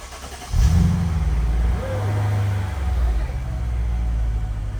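A 2007 Mercedes-Benz SL550 cold-starts with a loud crank and catch, then settles into a steady, close low rumble with a brief rev near the middle, while a voice speaks faintly in the background.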